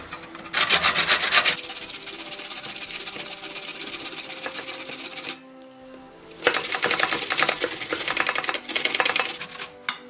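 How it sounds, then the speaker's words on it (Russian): A zucchini is rubbed against a coarse grater in a kitchen, loud raspy scraping strokes in rapid rhythmic bursts, pausing briefly before resuming. "Ну вот, кабачок мы дотерли."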